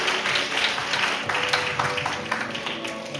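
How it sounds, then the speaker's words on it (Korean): Applause for the newly announced incoming student-council president at a university department's end-of-semester assembly: steady, dense clapping from a room of students, filling the whole stretch without pause. "힘찬 박수 부탁드립니다."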